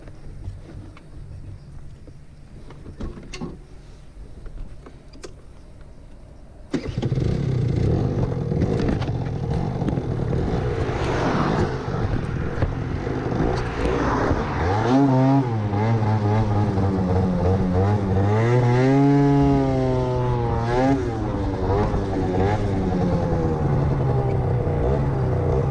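Aprilia SR50R Euro 4 scooter tuned to 70cc with a new belt and smaller carburetor, its engine starting after a quiet lead-in and revving hard, pitch climbing and falling as it runs at speed, loud and steady without talk.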